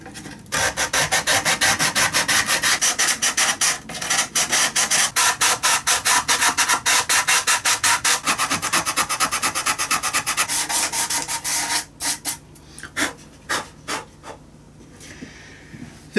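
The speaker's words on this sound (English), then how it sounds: "I will use some sandpaper." Steady back-and-forth rasping of sandpaper on the inner wood of a violin back, fast rhythmic strokes that slow to a few scattered rubs near the end.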